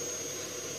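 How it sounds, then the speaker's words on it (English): A steady, droning vacuum cleaner hoovering a car hums continuously at a moderate distance, with a high whine over the motor's rumble. "It seems someone's decided to hoover the car while there's a gap in the rain"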